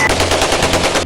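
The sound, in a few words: gunshots fired into the air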